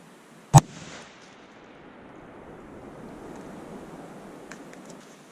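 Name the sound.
gunshot fired through duct tape at ballistic dummy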